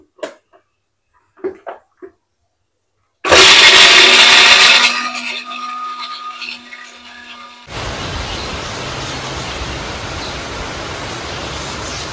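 After a few soft clicks and taps, an electric blender grinding ripe red chillies with ginger and garlic roars in loudly, then settles into a steadier, lower whir that shifts to a harsher, even drone for the rest.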